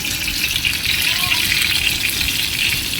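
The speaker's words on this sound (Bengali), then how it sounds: "আজকে দুপুরে বেগুন ভাজা, গরম গরম ভাত খাবো।" Eggplant slices frying in hot oil, a dense continuous sizzle and hiss close by, steady and loud from start to finish.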